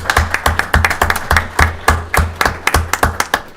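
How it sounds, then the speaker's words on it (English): A room of citizens at a city council meeting claps in a steady burst, sharp hand claps close and rhythmic with no voices over them. "you all deserve a round of applause"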